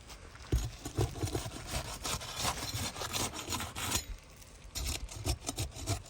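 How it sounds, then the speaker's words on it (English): A roof shingle is pried off with an Easy Swing roofing flat bar, giving close, continuous rubbing and scraping strokes with a brief pause before the scraping resumes. "I'm using the manufacturer approved Easy Swing roofing flat bar to remove the shingle"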